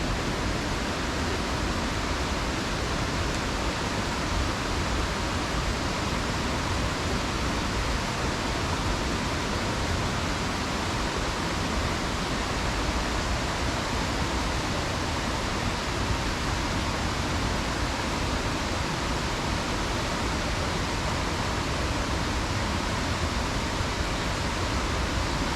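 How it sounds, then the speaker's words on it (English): Water rushes steadily through a stream in Finch Hatton Gorge, a dense, even wash of flowing water that holds constant throughout, close and fairly loud, with no voices. "The water's not running fast there"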